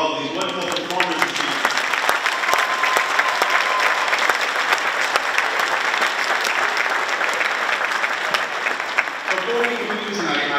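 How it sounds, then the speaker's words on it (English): Steady, full applause from the audience at an evening strings music festival after the performances, dense clapping that holds loud and even from start to finish with no voices standing out. "another round of applause for all of these wonderful performances."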